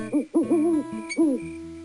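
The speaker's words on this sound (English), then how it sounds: "The soft cry of the owl." An owl hoots at night, giving a few close, clear hoots in quick succession with nothing else around them.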